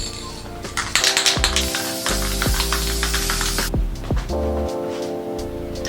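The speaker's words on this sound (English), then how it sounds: "I'm gonna spray it again one more time" Spray bottle misting water onto an acrylic painting, several short hissing bursts in quick succession over quiet background music.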